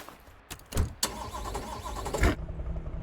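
A souped-up car, likely V8-powered, cranks and fires up in Car Mechanic Simulator, with a couple of sharp starter bursts before the engine catches and settles into a steady idle.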